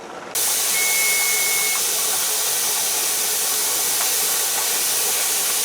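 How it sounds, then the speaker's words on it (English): A pressure canner vents steam with a loud, steady hiss that starts abruptly and holds constant throughout, broad and close, with a faint thin whistle early on. "There's a steady plume of steam coming up."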